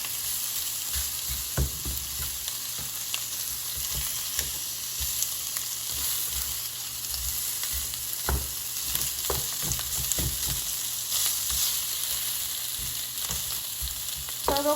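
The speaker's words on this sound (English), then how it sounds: "So now the sausage is sizzling." Ground sausage sizzles steadily while frying in a pan, a constant crackling hiss broken by occasional scraping and clicking as the meat is turned and broken up with a utensil.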